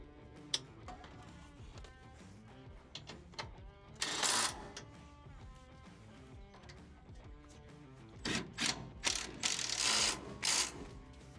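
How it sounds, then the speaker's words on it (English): A ratchet wrench tightening bolts on a Sumo Springs suspension bracket of a RAM 2500/3500 truck, clicking in quick irregular runs with louder bursts of rapid ratcheting near the middle and end. "Now you want to tighten up your bolts."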